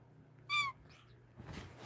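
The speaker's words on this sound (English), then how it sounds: "What are you meowing for?" A pet cat gives one short, clear meow nearby, quiet but distinct over a low background hum, followed by faint rustling.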